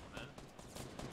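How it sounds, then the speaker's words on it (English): Gunfire in the Fortnite video game striking the player from two sides, dense bursts of shots running under a busy, noisy game mix with voices, loud and continuous for a moment. "I'm getting shot in the back and the front."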